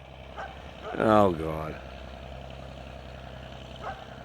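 A dog barks at a visitor at a rural house, two loud close yelps in quick succession, then a faint bark later, with someone speaking briefly.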